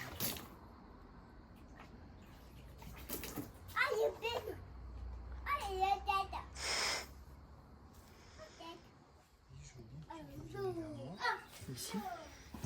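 A young child plays in a pool in the background near a Hymer Exsis SG camper van, his babbling and chatter faint and intermittent, with a nearby adult voice talking.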